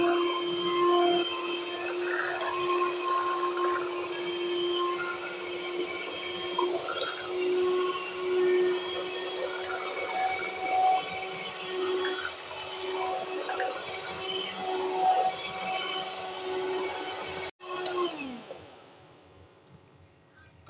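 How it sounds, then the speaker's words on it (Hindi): A handheld electric egg beater, a cake mixer, whirs steadily as it blends thick haleem, a continuous high motor whine that runs loud for most of the stretch and then cuts off abruptly near the end. "ये अंडा फेंटने वाली मशीन है जो केक वगैरह के लिए होती है"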